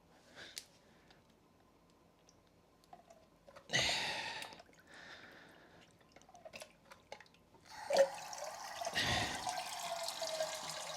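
Water draining from a whole-house filter housing, with scattered drips and splashes building into a steadier pouring trickle, close and fairly quiet.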